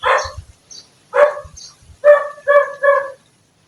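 A dog barks several times in short, sharp bursts separated by brief pauses, fairly close and loud, with no voices.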